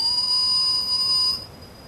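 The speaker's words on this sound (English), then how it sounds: "That's a flank whistle, followed by a stop whistle." A shepherd gives a whistle command to a sheepdog at a sheepdog trial: one clear, steady, high whistle held for over a second, then cut off, leaving quiet outdoor background.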